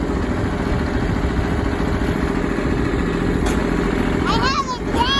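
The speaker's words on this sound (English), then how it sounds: "Driving what? The tractor. Dad's new tractor?" A new tractor engine runs steadily and loud as it drives along a road, a constant low throbbing drone with children's voices talking over it near the end.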